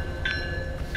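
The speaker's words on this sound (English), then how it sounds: "The train's coming." A train arrives, its steady rumble carrying a sustained tonal whine with short bursts of higher squeal, heard briefly and at moderate distance.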